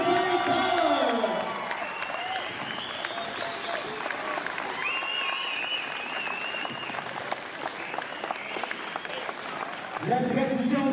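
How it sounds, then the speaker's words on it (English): A crowd at a wrestling event in Ontario applauds and cheers loudly, with a continuous roar of clapping and scattered whoops, while a voice talks over the start and end. "On l'applaudit"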